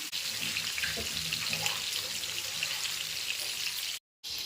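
Medium-sized fish fry in hot oil in a pan with a constant, loud, bright sizzle that holds steady and then cuts out briefly near the end.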